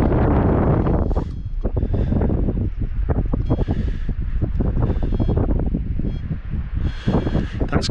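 Strong gusting wind on a beach at Margate buffets the microphone in loud low rumbles, rising and easing in bursts with no voices.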